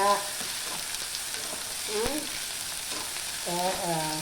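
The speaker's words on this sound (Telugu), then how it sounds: "కొత్తిమీర పుదీనా అన్నీ వేసి తిరమాత పెడుతున్నానండి" Mustard seeds, cumin, green chillies, tomato and onion fry in oil for a tempering in a Telugu boti curry, a steady close sizzle with scraping stir strokes and a few brief voices breaking through.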